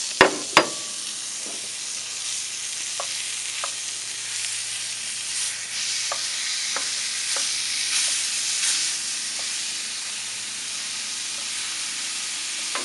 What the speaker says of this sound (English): What I want to do now, we got this ground beef.